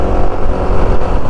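A Yamaha Nmax 155 scooter engine ticks over at low RPM under light throttle, a steady, loud, close-up drone that holds even throughout, with no one speaking.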